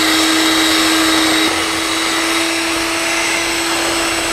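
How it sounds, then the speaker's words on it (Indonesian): Electric hand mixer beating cocoa frosting with UHT milk, producing a loud, continuous motorized whir with a steady whining tone throughout. "lalu kita akan mixer kembali."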